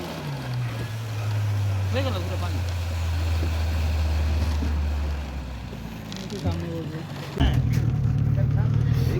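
A motorboat motors across the reservoir of Chandil Dam, its engine droning steadily and loudly with wind rush, dipping and then surging again near the end, while faint voices come through now and then.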